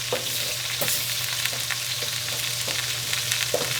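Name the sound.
spoon stirring and breaking apart pâté in a pan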